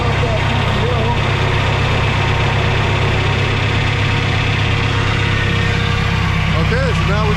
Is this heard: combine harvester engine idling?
yes